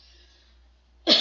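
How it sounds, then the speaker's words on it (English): A single short, sharp throat clearing, loud and close, bursting out after a near-silent moment with a faint tonal hum beforehand. "let me clear my throat"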